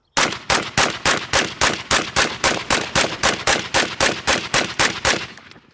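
A B&T rifle fitted with a Surefire suppressor fires a rapid, evenly spaced string of about eighteen muffled shots, loud and close, with no talk.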